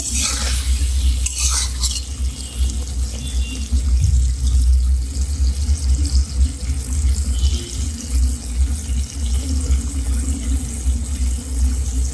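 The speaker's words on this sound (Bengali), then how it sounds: "ছোট মাছ চিংড়ি রান্না করতেছি ভেন্ডি দিয়ে" Small shrimp and okra cook in a pan, a dense continuous sizzle with a low rumbling hiss, steady and close throughout with occasional stirring.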